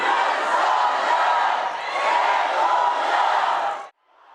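Supporters cheer and shout as a former president walks into a courthouse, a dense, loud wall of crowd noise held steady for nearly four seconds before cutting off abruptly.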